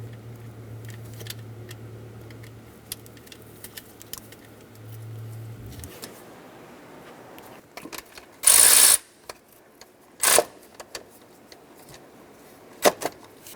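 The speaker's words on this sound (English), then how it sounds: "Snug that nut down" Ratchet snugging a nut onto the starter stud of a 2000-2006 Toyota Tundra, a low mechanical hum, then sparse clicks and a few sharp, loud bursts of metallic noise, close with no talking.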